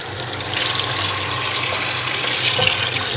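Tap water runs in a steady broad rush while greens are being washed, close and continuous for a few seconds with no talk.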